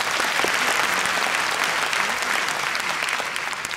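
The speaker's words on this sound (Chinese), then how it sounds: "我们也给玉恩一个最热烈的掌声" Dense, steady applause from a large audience at a company event in a Taipei convention hall, loud and continuous throughout with only a slight fade at the close.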